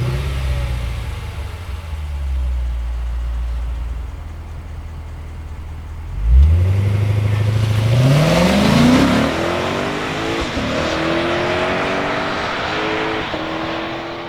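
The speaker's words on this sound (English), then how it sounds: "This V8, naturally aspirated, 5 liters of displacement." A 2025 Lexus IS 500's naturally aspirated 5-liter V8 idles low, then revs up sharply with rising pitch and a roaring exhaust before settling into a sustained drone.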